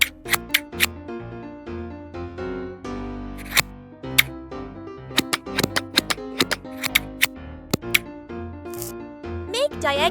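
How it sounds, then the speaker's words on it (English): Small scissors snip the fins off a tiny fish in a miniature outdoor cooking setup for pomfret curry, with a string of sharp, close clicks and snips over a soft tonal background. "Cut off the fins with scissors."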